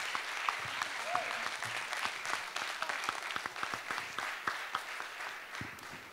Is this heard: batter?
no